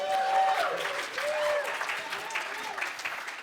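Applause from a conference crowd at Shmoocon 2013 fills the room, a steady patter of many hands at moderate distance, with a voice speaking briefly over it.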